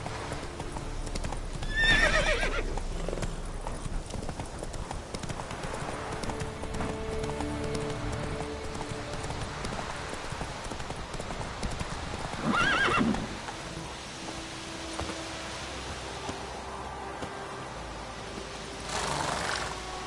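Roach the horse trotting in a video game, a steady clip-clop of hooves with occasional whinnies and snorts, moderately close over ambient game background.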